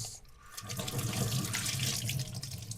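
Dishes being washed under a running tap at a sink, with a steady splashing stream of water and clinking, continuous and close, with no talking.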